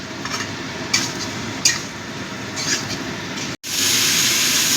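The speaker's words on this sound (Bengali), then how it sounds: "ফুলকপিটা দেখো ভালো করে মিশিয়ে দিচ্ছি, আর মশলাটাও কষানো হয়ে যাচ্ছে।" Cauliflower and spices are stirred in a pan, giving a steady frying sizzle with a few scraping strokes. The sound cuts out briefly near the end, then returns louder and brighter.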